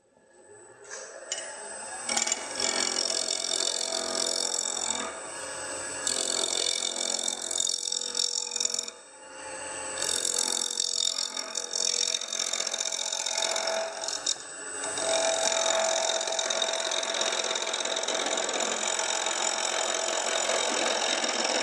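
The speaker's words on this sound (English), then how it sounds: "I'll now move over to the spindle gouge and I'll refine this area here" A wood lathe turns a spoon and spatula blank while a spindle gouge cuts, a loud, close, continuous hiss and rasp that breaks off briefly several times as the tool lifts and then resumes.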